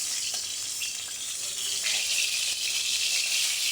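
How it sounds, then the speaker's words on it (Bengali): Snakehead fish heads and pieces frying in hot oil, giving a steady, loud hiss and sizzle that runs through the whole stretch. "তেল গরম হয়ে গেছে, এবার মাছগুলো ভেজে নেব।"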